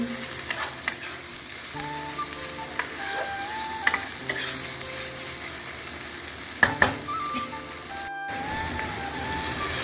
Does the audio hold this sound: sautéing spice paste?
yes